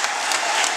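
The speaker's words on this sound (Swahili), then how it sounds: "Pigeni Mheshimiwa Rais makofi." A crowd at a Tanzanian political rally claps steadily in dense, even applause. It carries on without a break through the short moment.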